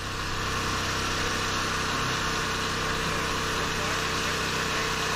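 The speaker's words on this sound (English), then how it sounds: "My new generator is running." A new generator runs at a trapping camp, a steady droning engine hum that stays constant and loud for the whole stretch with no breaks.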